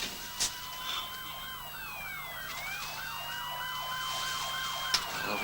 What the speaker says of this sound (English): what about those sirens?